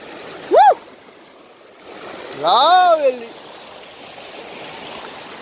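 A steady wash of flowing stream water near a hillside waterfall fills the background, interrupted twice by short, rising and falling vocal calls.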